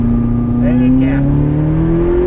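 A Ferrari California engine revs up under acceleration on a track lap, a loud rising drone heard from the driver's seat, briefly and close.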